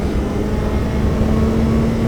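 A 2022 Suzuki Hayabusa motorcycle engine runs high in the revs in second gear on a race track at Utah Motorsports Campus, a loud steady drone with wind rush and no speech.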